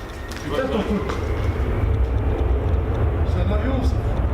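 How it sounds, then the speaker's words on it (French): An airplane flies over close to an airport, a steady loud low roar rumbling throughout while people talk over it. "C'est un avion ça."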